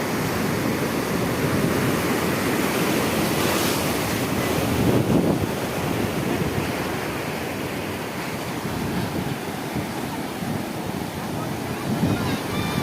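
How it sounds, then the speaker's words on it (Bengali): Big sea waves breaking on the beach at Digha Mohana: a continuous, loud roar of surf with heavy wind buffeting the microphone throughout. "ঢেউগুলো কত বড় বড় আসছে দেখুন।"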